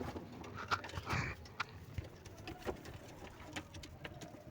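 Pigeons coo softly in a loft, low throaty calls scattered among faint rustling and shuffling, distant-sounding and quiet with no speech.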